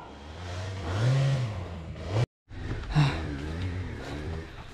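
A dirt bike engine revs hard on an uphill trail ride, its pitch swelling and falling in loud close bursts, cutting out briefly before revving again.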